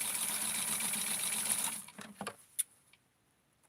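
A sewing machine runs fast and steadily with a tight stitch on a Barbie wedding dress, then stops, followed by a few faint clicks and handling knocks.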